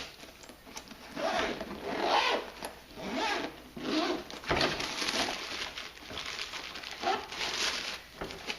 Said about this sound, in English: inside we have 2 compartments sealed with zippers